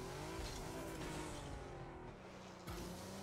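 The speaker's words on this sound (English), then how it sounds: "Show the wheels with burnout boost" Cyclone car in a video game roars with a loud, steady engine drone under burnout boost, with a brief dip and then a sharp surge near the end; no voices.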